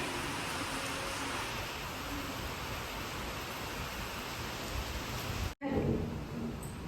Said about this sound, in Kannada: ಇವತ್ತು ಫುಲ್ ಮಳೆಗಾಲದ ವಾತಾವರಣ ಮಳೆ ಹೋಯ್ತಾ ಇದೆ